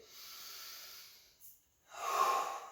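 Slow breaths in and out during a stretching routine, a soft airy exhale followed by a brief pause and a stronger, close breath.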